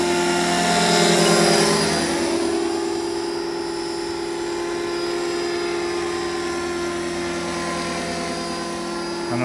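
A small model helicopter whines overhead with a high, steady buzzing rotor and motor tone, louder at first and then holding level in the distance.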